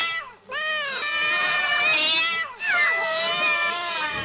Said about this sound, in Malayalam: ഈ ഹൈ ഫ്രീക്വൻസി ശബ്ദം പൂച്ചകളുടെ സ്വഭാവം എങ്ങനെ മാറ്റുന്നുവെന്ന് കാണാം.